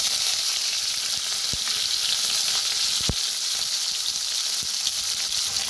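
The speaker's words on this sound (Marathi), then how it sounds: "आता त्याच्यातच टाकूया कांदा आणि कढीपत्ता" Onion and curry leaves sizzle steadily in hot oil with mustard seeds and cumin, a close, continuous frying hiss with a few sharp pops, for a Maharashtrian buttermilk pithla.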